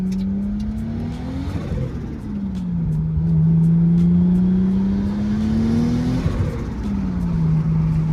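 A Toyota Aristo with a 2JZ engine pulls hard at 26 psi of full boost, the exhaust note rising and falling through several revving sweeps, loud and close with a steady rasping drone.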